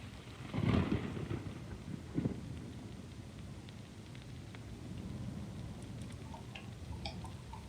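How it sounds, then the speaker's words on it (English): Rain and distant thunder play in the background of a Crusader Kings III session, a faint steady hiss of rainfall with a low rumble early on and soft scattered ticks toward the end. "Gosh, there's rain in the background."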